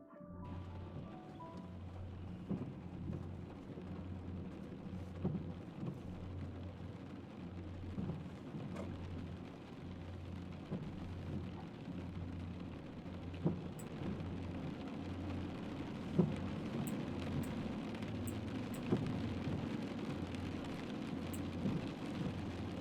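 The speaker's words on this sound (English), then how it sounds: "The rain's really rough in this one." A recording of heavy rain with thunder plays back, a dense constant downpour with low rumbles rolling through and occasional sharper cracks, steady and fairly loud throughout, no voices.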